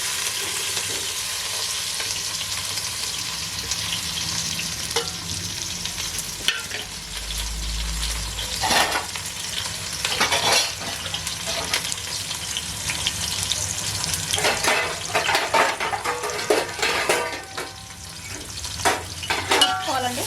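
Green chillies and onions fry in a pan for goat head curry, a steady loud sizzle with stirring and occasional scrapes and clinks of a utensil against the pan throughout.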